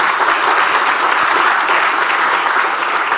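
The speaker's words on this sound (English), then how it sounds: "Let us give him a round of applause." Dense, steady audience applause at an awards presentation for outstanding CXC examination performances, following the introduction of a reparations commission leader; loud and close, sustained without a break.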